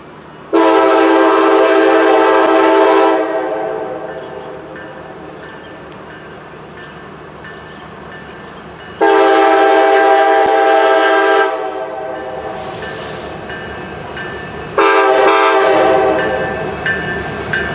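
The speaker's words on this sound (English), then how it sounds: "the train we were waiting for then finally came up." Norfolk & Western 2156 steam locomotive on a nighttime ferry move, sounding three loud, long horn blasts that stand out clearly above a low rumble of the approaching train, with no talk.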